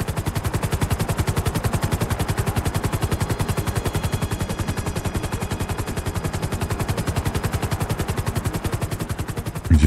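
Helicopter rotor in Grand Theft Auto V, a loud, steady rapid chopping beat that thumps evenly and close throughout, with no talk over it.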